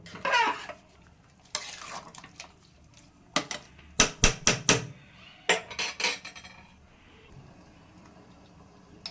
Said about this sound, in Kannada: ಇನ್ನು ಇದಕ್ಕೆ ಮೇಲ್ವಗ್ಗರಣೆನ ಕೊಟ್ಬಿಟ್ರೆ ಆಗೋಯ್ತು.